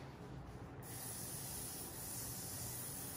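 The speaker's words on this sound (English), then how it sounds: "and then the shine spray" A steady, close aerosol hair shine spray hisses continuously after a brief quieter moment at the start, sprayed on a short pixie haircut, with no talking.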